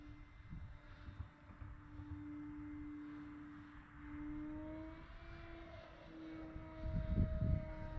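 A Carbon Z Cub SS radio-controlled airplane flies overhead, its electric motor giving a thin, steady whine that shifts pitch as it banks and passes, fairly faint, with a low rumble of wind near the end.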